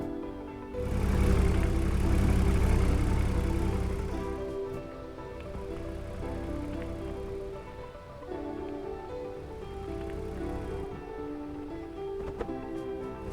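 Tractors drifting in a video game give off a droning, layered engine hum that swells loud near the start, then settles into a steady rumble with faint clanks and no speech.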